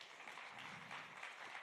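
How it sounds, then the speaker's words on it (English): An audience applauds a speaker at a conference, the clapping faint but steady and unbroken. "So again, a big round of applause for Aude."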